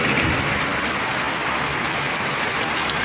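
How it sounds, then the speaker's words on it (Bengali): Heavy rain pours down in a dense, steady hiss, drumming constantly on nearby surfaces with no pauses. "বৃষ্টি ঝেপে"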